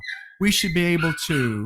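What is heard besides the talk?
dog whimpering in the background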